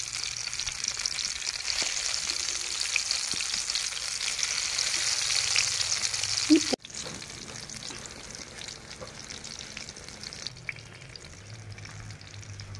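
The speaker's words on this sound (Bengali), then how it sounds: "তো আমি সেখান থেকে কিছু তেল নিয়ে বেগুনগুলো ভেজে ফেলব" Brinjal slices fry in oil with a close, steady sizzle and occasional stirring, a sharp clatter around midway, then a somewhat quieter hiss.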